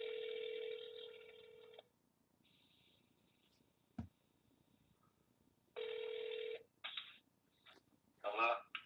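Telephone tones from an outgoing call: a long steady dial or ringback tone, a pause with faint lower tones, a click, then another long tone and short bursts of dialing beeps near the end, fairly close and loud.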